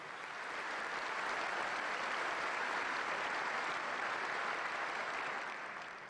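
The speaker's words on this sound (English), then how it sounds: "please join me in a round of applause" Sustained applause from a large audience, a dense wash of clapping that swells in, holds steady for several seconds, and tapers off at the end.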